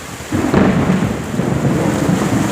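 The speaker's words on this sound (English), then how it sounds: "That's the thunder for you." Heavy rainstorm on a flooded city street, with a deep rumble of thunder rolling in after a quiet start and continuing steadily under the constant hiss of pouring rain.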